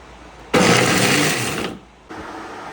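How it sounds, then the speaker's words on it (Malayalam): A mixer grinder whirring through ginger, garlic and green chilli, with one loud motor burst of about a second followed by a brief pause and a second pulse starting, close by. "ഈ സാധനങ്ങളെല്ലാമേ നമ്മൾ മിക്സിയിലിട്ട് ഒരു അടി അടിച്ചെടുക്കണം."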